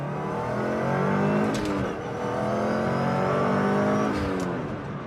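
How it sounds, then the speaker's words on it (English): A Subaru STI with a swapped transmission pulls away in first and accelerates through the gears, its engine note rising and dropping with each shift, fairly close and steady with no talking. "I'm gonna pull out in first, casually shift into second, and then kind of speed up from there."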